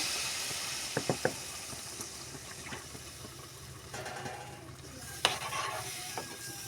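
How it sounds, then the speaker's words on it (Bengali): Water is poured into a pan of frying vegetables with onion, giving a steady soft sizzle with occasional stirring clatter and spoon taps near the microphone, no talk. "এরপরে আমি জল দিচ্ছি সিদ্ধ হওয়া পর্যন্ত"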